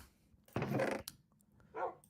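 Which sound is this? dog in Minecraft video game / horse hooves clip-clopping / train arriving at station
dog in Minecraft video game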